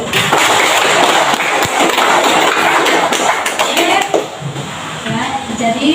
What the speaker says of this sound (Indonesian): Mari tepuk tangan buat Ragil.